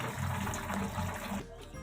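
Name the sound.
draining water from boiled pasta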